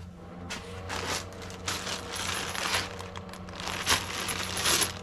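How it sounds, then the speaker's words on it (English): Aluminum bolts installed on the bedplate of a BMW N engine during a crankshaft rebuild give light metallic clinks and rattles, several close, small knocks spread across a few seconds with no talking. "Now we're going to go ahead and install the aluminum bolts."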